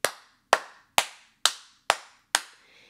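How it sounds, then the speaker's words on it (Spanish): Six single hard hand claps, evenly spaced about half a second apart, each sharp and loud with a short ringing decay in a quiet room. "Vas a aplaudir lo más duro que tú puedas, así"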